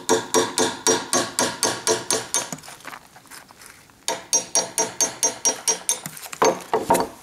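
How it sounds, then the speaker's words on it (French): Old wooden pegs being knocked out of a barn door frame with a hammer: a run of sharp, regular hammer blows, a short pause, then another steady series of loud strikes close by. "Je vais également pouvoir retirer les chevilles qui me serviront pour boucher d'éventuels trous qu'il y a dans les montants"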